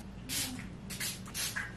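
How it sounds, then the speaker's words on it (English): Heat protectant sprayed onto hair in short hissing bursts, two or three quick pumps close by, with no one talking. "I'm also gonna spray this protectant"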